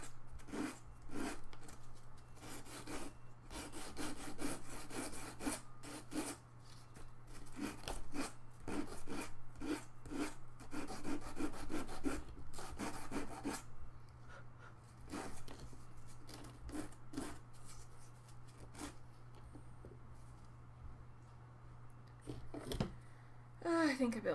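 Wood is sanded by hand with sandpaper at a craft table, making continuous rasping back-and-forth strokes at a steady rhythm, close and fairly soft, with quiet voices in the background.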